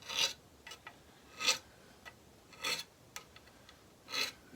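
Frets on a cigar box guitar are sanded by hand in short raspy strokes, about five distinct passes with pauses between, close and alone.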